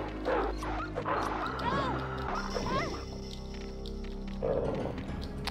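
In the Resident Evil 1.5 video game, dogs bark, yip and whimper in several sharp bursts over game sounds, and someone talks in between.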